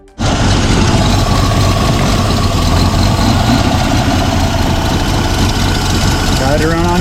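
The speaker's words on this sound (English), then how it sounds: "Got it to run on gas. It's running." A 1981 Toyota Land Cruiser FJ60 engine fires up on gasoline and settles into a loud, steady, slightly rough idle close by, running continuously after a sudden start, with voices audible over it.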